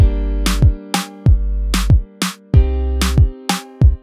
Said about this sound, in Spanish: ensanchamos impulsando hacia arriba el tamaño del reverb